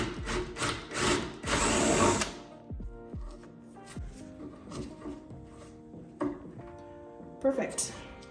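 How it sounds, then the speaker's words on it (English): A large drill bit bores a hole into wood in a short whirring burst near the start, followed by clunks, knocks and handling of tools on the wooden piece, with a person talking in between. "time for the big old drill bit, because I have to drill a hole big enough for this to fit into"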